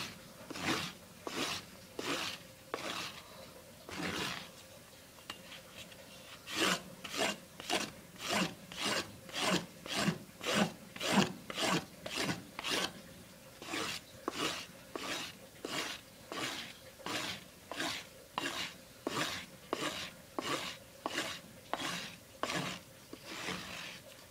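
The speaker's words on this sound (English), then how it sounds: "you're gonna get some cardboard and you're gonna strop your knife to deburr it" A knife blade stropped on cardboard, with about thirty dry, rasping strokes in a steady back-and-forth rhythm, a few slower ones at the start and then quick regular passes. The strokes are close and fairly quiet, and no one speaks.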